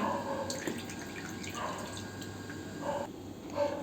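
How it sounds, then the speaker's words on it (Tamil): Water draining from rinsed potato slices sitting in a kitchen filter, heard as soft trickling with scattered drips at irregular intervals, quiet and close. "இது போல் ஒரு ஃபில்டரில் இது எல்லாத்தையும் சேர்த்துக்கலாம் சேர்த்துட்டு தண்ணி வடிஞ்ச பின்னாடி எடுத்துக்கலாம்"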